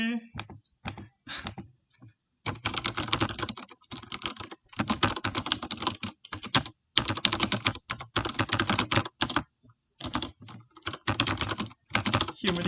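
Fast typing on a light, smooth-action computer keyboard while coding: close, crisp keystrokes come in quick bursts separated by short pauses.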